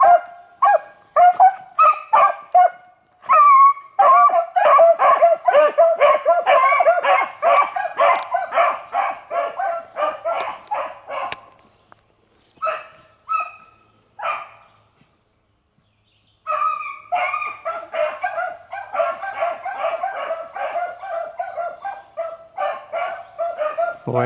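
Pack of beagles barking and baying on a hot summer hunting run, a dense chorus of overlapping yelps that drops out briefly in the middle, then picks up again with the hounds close.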